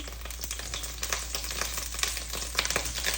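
Cauliflower frying in mustard oil in a pan, a dense steady sizzle with crackling pops throughout, close and fairly loud, with no talking.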